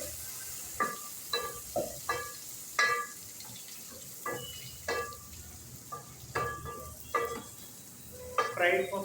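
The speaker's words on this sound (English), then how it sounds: "Stuffed brinjals. Fry it for 5 minutes." Stuffed brinjals fry in a pan, a steady low sizzle broken by a series of sharp, close stirring clatters spaced every second or so.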